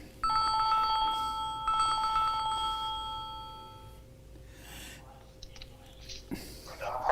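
An old-style telephone rings with two loud, fast-trilling bell bursts up close, then fades out, followed by faint speech and a few clicks.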